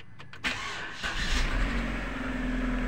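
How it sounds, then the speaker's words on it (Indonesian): A gasoline car engine with a white-smoke fault cranks with a sharp jolt, catches after a brief pause and settles into a loud, steady, close rumble, with no talking. "Kita coba starter."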